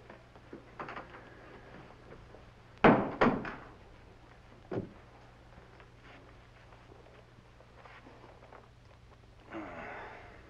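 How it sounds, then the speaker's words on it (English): A door closes in a Wild West television drama with a sharp pair of close wooden thuds, then a softer knock a moment later, over a quiet room hum with faint shuffling movement and no speech. "You men get out of here. Close that door behind you."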